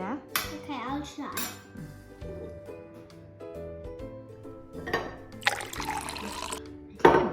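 A spoon clinks and stirs in a cup of water during a children's colour-changing science experiment, with light taps and swirling, a louder burst of liquid near the end, and faint voices.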